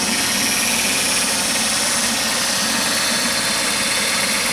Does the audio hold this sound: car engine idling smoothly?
yes